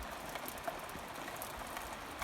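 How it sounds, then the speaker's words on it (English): Steady rain patters on a surface, a dense even hiss with scattered louder drops, no voices. "at least I'm getting some rain"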